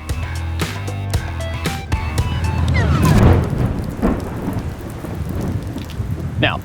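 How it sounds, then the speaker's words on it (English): Heavy rain pours steadily on an outdoor workshop where a door was being sealed with polyurethane, with a loud thunder crack and long rolling rumble building midway, drowning out an earlier tonal sound before settling into dense rainfall. "then it started raining, like a lot"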